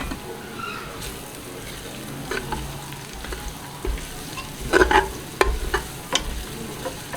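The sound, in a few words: garlic frying in a pot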